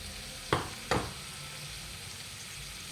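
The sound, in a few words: chicken fry with ground spices stirred in pan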